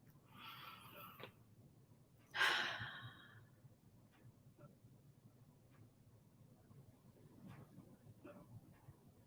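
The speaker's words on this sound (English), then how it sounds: "And so take a deep breath." A single deep breath is drawn and released, loud and close, in an otherwise quiet room with faint breathing around it.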